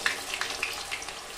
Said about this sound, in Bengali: আস্তে আস্তে করে খুন্তি করে নাড়বো।